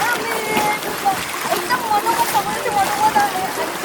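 Swimmers splash in sea water about 1.5 m deep at Kolaba Fort, Alibaug, during a rising tide, with steady nearby sloshing under frequent talking voices.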